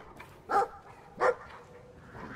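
A dog gives two short barks about half a second apart in the video game Brothers: A Tale of Two Sons, moderately loud over a steady game ambience with no talk.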